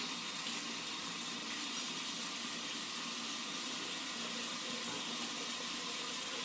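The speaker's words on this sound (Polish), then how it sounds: "Spłuczę ją tylko taką cieplejszą wodą, bo muszę nalać sobie jednak wody do umywalki." Warm tap water runs steadily into a bathroom sink while a razor is rinsed, a loud, continuous rushing splash without any break and with no voices.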